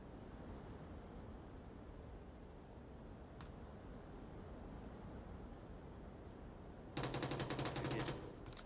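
A short, sharp burst of AK-12 rifle fire in the Onward video game rattles out near the end, loud against a low, steady background rumble.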